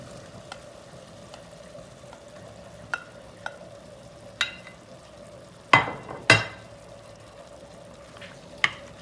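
Kidney beans are stirred in a pot over a faint, low sizzle, with a few sharp spoon knocks against the pot, the loudest two close together midway through.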